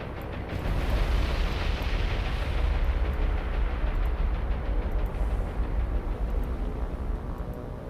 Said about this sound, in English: 2 hits by bombs on the Nagara.